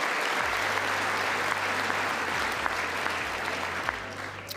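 A large audience at a joint session of the United States Congress claps steadily and densely throughout, a continuous wash of applause with no speech over it.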